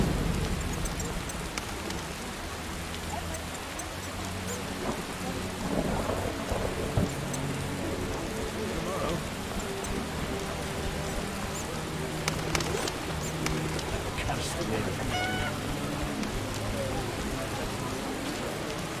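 Thunderstorm in the video game The Witcher, with steady rain pattering on surfaces and several rolling thunder rumbles, a bird faintly calling amid the downpour.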